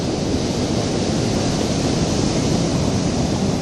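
Steady ocean swell washing ashore at the mouth of the Rivière des Galets on Réunion; a constant, loud, broad roar of surf with no letup and no voices.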